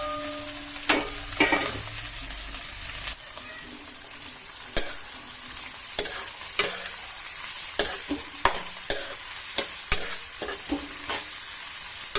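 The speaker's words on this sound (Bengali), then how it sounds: "পেঁয়াজটা দিলাম। পেঁয়াজটা ভাজা ভাজা করি।" Onions sizzle in a pan with cumin already tempered in the oil, a steady frying hiss broken by repeated sharp scrapes and clinks of a spatula stirring, close up with no talking.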